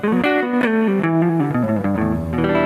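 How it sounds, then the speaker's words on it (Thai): Clean electric guitar through a Peavey Bandit 112 amp, a run of clear picked notes and chords with slight reverb, played alone and fairly loud. "ลองเสียงคลีนดูก่อนนะครับทดสอบความเรียบร้อย"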